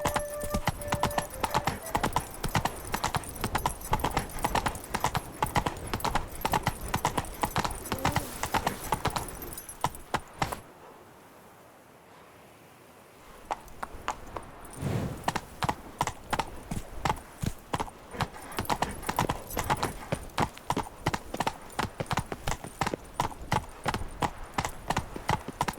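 A horse gallops in the video game The Witcher 3, its hooves clattering in a fast, rhythmic, close stream; the pounding fades briefly to near silence midway, then resumes at full pace.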